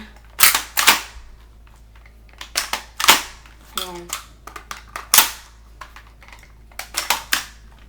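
An airsoft gun fires a string of sharp, snappy cracks, loud and close, some shots single and some in quick pairs, with faint handling clicks between them.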